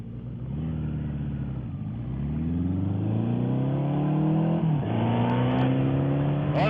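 Suzuki SV650 motorcycle pulling hard on throttle, a loud close engine drone whose pitch climbs steadily through the gears with a brief dip near the end, no talk over it.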